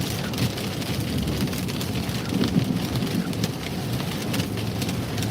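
Heavy rain drums steadily on a car driving on the I-95 highway north of Boston during a thunderstorm, with a dense, loud wash of rain and low rumbling thunder underneath and no voices.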